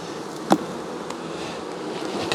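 Bees droning steadily inside a late-season hive box during a colony check, a continuous close buzz with a few brief louder bumps and no talk.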